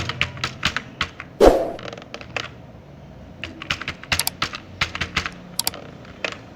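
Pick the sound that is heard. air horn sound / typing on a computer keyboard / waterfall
typing on a computer keyboard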